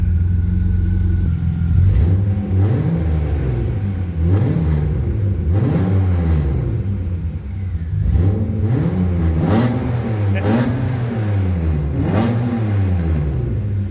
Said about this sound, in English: We'll let it warm up and give it a couple revs.